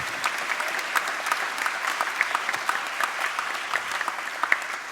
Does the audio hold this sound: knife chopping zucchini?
no